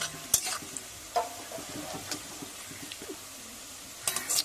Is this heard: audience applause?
no